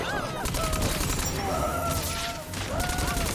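Gunfire rattles in the video game Tiny Tina's Wonderlands, a loud, dense fusillade of rapid shots running throughout amid other chaotic game effects, with a voice speaking over it.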